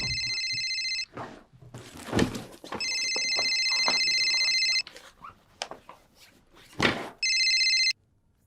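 A mobile phone rings in a classroom, three loud electronic ringtone bursts with short gaps between them, broken by thumps and short noises.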